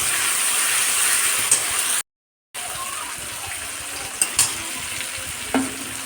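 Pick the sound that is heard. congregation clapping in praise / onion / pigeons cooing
onion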